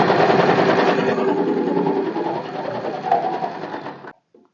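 Sewing machine running continuously as it stitches a tuck on a blouse lining, a loud rapid mechanical chatter that slows slightly and stops abruptly near the end.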